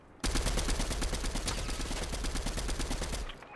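Rapid automatic gunfire in the Fortnite video game rattles nonstop for about three seconds, loud and dense, with no voices over it.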